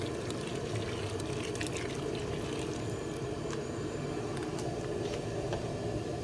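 Shrimp and crab concentrate is poured into a backyard crawfish boil pot, giving a steady liquid trickle and splash over a constant low bubbling rumble, with no talking.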